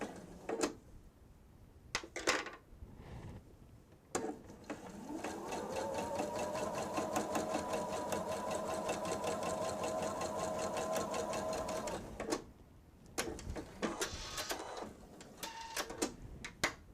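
A sewing machine runs in one long steady whirring stretch, close and moderately loud, with clicks and handling noises before and after and a brief voice nearby.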